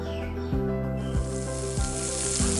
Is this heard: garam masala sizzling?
yes